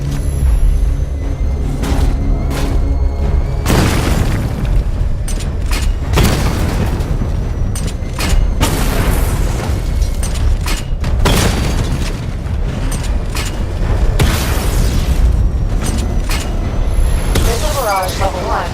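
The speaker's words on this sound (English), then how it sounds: "Destroy targets to charge up weapon energy and activate missile barrage" A missile barrage from the Batmobile in Batman: Arkham Knight sets off a string of heavy booming explosions with rumbling impacts and mechanical clatter, loud and continuous, mixed with game voice announcements.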